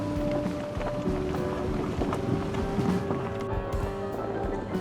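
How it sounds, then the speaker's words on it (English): A boat engine drones steadily with a low rumble as the boat passes under a bridge in Ferriday, Louisiana, mixed with wind buffeting the microphone, continuous throughout. "So that boat just went through."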